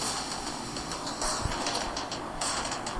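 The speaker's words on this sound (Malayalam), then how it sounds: "ആനിമേഷൻ കൊള്ളാം കേട്ടോ ട്രെയിനിൻ്റെ." A train in the Free Fire video game animation rolls along with steady rumbling and light clickety-clack, mid-distance and continuous, with faint bird-like chirps above it.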